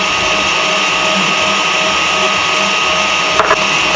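An electric mixer whips egg whites as sugar is added, a loud steady motor whine running at moderate speed without a break, with a faint voice talking under it.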